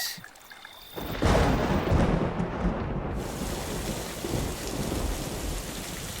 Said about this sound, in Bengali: মুসুলধারে বৃষ্টি হচ্ছে তার সাথে সাথে মেঘের ডাক আর বিদ্যুতের ঝলকানি